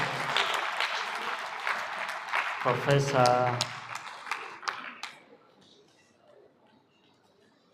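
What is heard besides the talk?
audience applause for keynote speaker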